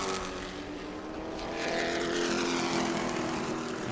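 A loud, sustained race car engine drones through the late laps at New Smyrna, a steady buzzing roar that swells slightly midway, heard from a distance with a wavering, troubled tone as Fitzgerald's machine starts to fade.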